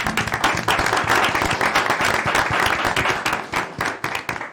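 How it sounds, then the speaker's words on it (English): Steady applause from attendees at a city mayor and council meeting, a room full of hands clapping continuously at close range for several seconds with no speech over it. "Let's give Marvin a round of applause."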